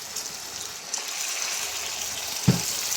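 Water is poured into a fish curry in a cooking pot, a soft steady gush over a low sizzle, with a brief splash near the end.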